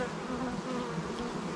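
Honey bees buzzing around beehives outdoors, a steady droning hum of many insects at moderate distance, fairly faint and continuous with no talking.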